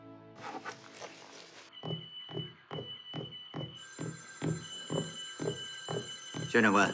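An old-style telephone bell rings in a steady series of short bursts while someone speaks briefly over it.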